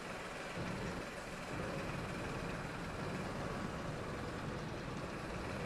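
A lawn tractor drives in the Farm Expert 2017 video game, its engine a steady, even drone that holds without a break throughout, with no voices over it.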